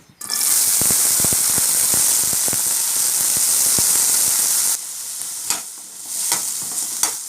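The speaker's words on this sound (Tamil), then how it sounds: "இப்போ நம்ம வந்து கழுகி வச்சுருக்கிற சுண்டக்காய் போட்டுடலாம்" Turkey berries (sundakkai) hit hot oil in a pan and set off a loud, steady hiss of frying for several seconds, then the sizzle eases into quieter crackling broken by utensil clatter and stirring scrapes.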